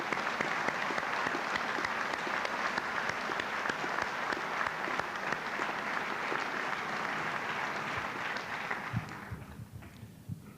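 A large graduation ceremony audience applauds steadily in a big hall, dense continuous clapping that holds for most of the time and thins out toward the end.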